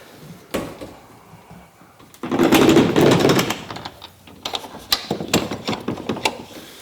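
Glass sliding doors on the back of a stacker trailer rolling open, a loud sustained sliding rumble with rattling, followed by a series of lighter clunks and knocks.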